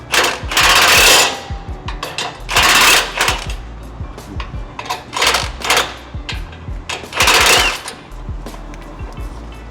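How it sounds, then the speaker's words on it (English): Bolts on a Ford Raptor's passenger-side sway bar are loosened with a power tool, giving loud, repeated rattling bursts of hammering that stop and start in quick succession, close up with no talking. "I decided to go back to the passenger side to loosen the bolts that I had tightened earlier"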